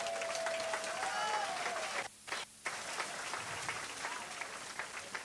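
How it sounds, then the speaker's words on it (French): A church congregation applauds in steady, loud, dense clapping and cheering that fills the space, with a brief break near the middle before the crowd noise resumes. "On acclame Jésus-Christ de Nazareth"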